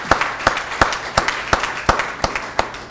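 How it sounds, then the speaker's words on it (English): An audience at an evening honoring ceremony claps for the program committee, who are standing; sharp, fairly evenly spaced hand claps sound close and moderately loud, with no talk over them. "And give them a big round of applause."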